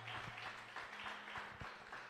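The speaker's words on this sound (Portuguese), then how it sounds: "Bate uma linda salva de palmas que agradece ao nome do Senhor." Church congregation applauding during a live Pentecostal service, a soft broadband patter of many hands clapping steadily throughout, with a low sustained hum underneath and some irregular louder claps.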